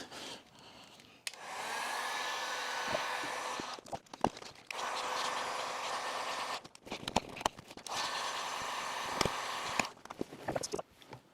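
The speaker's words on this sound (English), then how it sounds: "Now these boxes are glued together, so I'm going to take a heat gun and open it up." A heat gun runs against the glued seams of a Henry Petcare HPC 160 vacuum cleaner box, a steady close blowing whir that cuts off and restarts several times between scrapes and handling noises.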